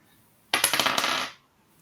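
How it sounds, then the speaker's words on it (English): Percentile dice rolled during a tabletop role-playing game give one short, close rattling clatter lasting under a second, heard alone in an otherwise quiet room. "So give me another roll of your percentile dice."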